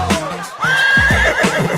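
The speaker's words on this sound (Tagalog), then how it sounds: "Kabayo!" A horse neigh sound effect, a loud close whinny with a rising squeal that falls away into shaky, breathy neighing, playing by itself with no talk over it.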